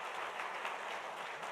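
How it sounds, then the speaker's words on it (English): An audience at a Big Read kick-off event gives another round of applause as three speakers return to the stage, steady continuous clapping heard at a distance and fairly faint. "could we all give them another round of applause?"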